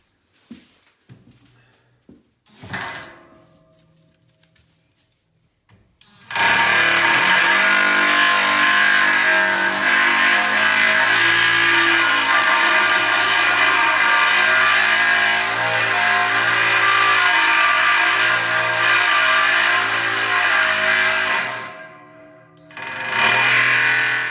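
A power flush machine pumps through a domestic heating radiator, starting abruptly after a few quiet seconds with a loud, steady mechanical roar that holds for about fifteen seconds, then drops away and briefly resumes.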